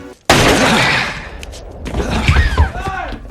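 A gunshot in a classic horror film set in a nightclub, where a villain shoots a police officer. A sudden loud blast decays into a rumbling tail, and film dialogue and sound effects follow.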